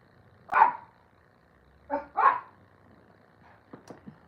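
Several dog barks come in two short bursts, then a few softer yips and whimpers, fairly close in an otherwise quiet indoor room.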